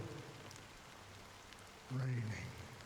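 Steady rain in the Honkai Star Rail game, a soft constant hiss of falling drops heard faintly under a voice that speaks in the clip.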